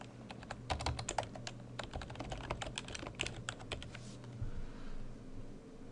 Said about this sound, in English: And now I'll type some more text.